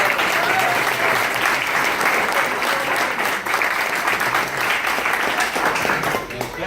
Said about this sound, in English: we want to give you a round of applause